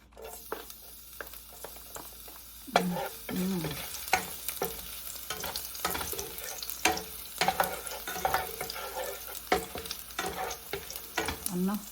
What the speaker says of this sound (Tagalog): Lagyan natin ng garlic para mabango ang